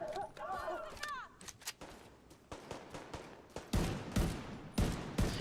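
Gunfire in The Division 2 rings out as a string of irregular sharp shots, growing louder and heavier toward the end, mixed with in-game voices and chatter.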